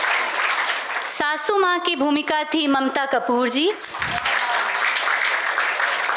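A theatre audience applauds the cast of the drama Ghaswali at a Premchand Jayanti event in Varanasi, a steady clapping that runs under a man announcing names and continues after he stops.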